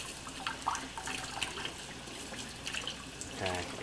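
Tap water runs steadily onto a Scrub Daddy sponge held beneath the flow, a close, continuous splash with small drips and brief handling noises, no talk.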